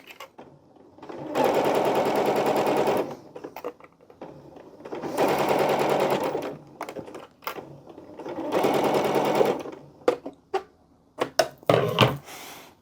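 A sewing machine stitching a hoodie runs in three sustained bursts of rapid needle chatter, separated by pauses filled with handling clicks and fabric shuffling, close and clear.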